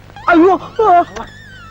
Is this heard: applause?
no